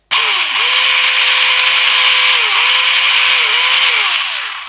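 An electric motor drives an LDX basic V2 gearbox under strain until it breaks, giving a loud, steady high whine with a pitch that repeatedly sags and recovers, heard up close and alone.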